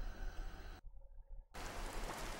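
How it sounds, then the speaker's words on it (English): Steady rain in the video game A Hat in Time, a dense broadband hiss that cuts out briefly in the middle and then returns at full strength, with no talking. "It's raining."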